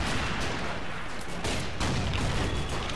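Battlefield explosions and artillery fire in the Men of War Assault Squad 2 war game, with German soldiers and tanks nearby; a dense, continuous barrage of booms and gunfire fills the whole stretch, loud and steady.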